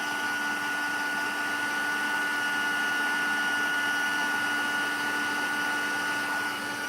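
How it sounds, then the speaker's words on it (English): An embossing heat tool blows hot air over embossing powder in a crafting setup, a steady, even whoosh with a constant whine that holds unchanged at moderate loudness from start to finish, with no talk. "Your best bet with the heat tool as well is to let it warm up a little bit before you start putting it on your embossing powder"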